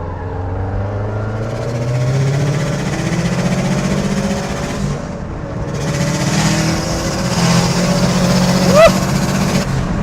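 A tuned Subaru Impreza WRX pulls hard on a favourite stretch of road, its engine note rising and falling through steady acceleration, loud and continuous with a brief surge near the end.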